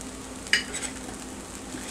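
Garlic with porcini and portobello mushrooms frying in a pan gives a steady soft sizzle, broken by one sharp utensil clink against the pan and a few faint scrapes of stirring.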